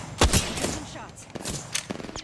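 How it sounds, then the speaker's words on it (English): Several close, sharp gunshot bursts from weapons in Apex Legends crack out in quick succession over a short stretch, with a player's voice speaking among them. "Shots."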